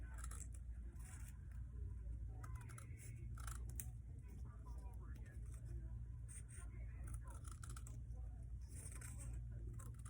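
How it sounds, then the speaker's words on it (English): Quiet snipping and scraping of scissors cutting a tape strip in half for baton taping, repeated soft cuts over a low background hum. "I'm cutting the strip in half."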